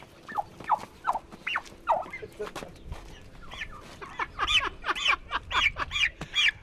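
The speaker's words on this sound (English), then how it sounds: "The plan was to start putting 40 to 50 turkeys around the scrapyard and let customers give chase." Turkeys loosed around a scrapyard give a run of quick, close, yelping gobbles and clucks that grow busier and overlap toward the end, over a low rumbling background.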